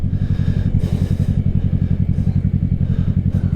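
A 2024 Kawasaki Ninja 650 fitted with an M4 exhaust is rev-matched while riding, giving a loud, close, rapid throbbing engine pulse that holds an even, rhythmic beat throughout.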